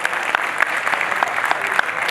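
Audience applause at a Hindi stage drama about protecting a pilgrimage site, a brisk, fairly loud clapping from a crowd with sharp individual claps standing out, brief and continuous.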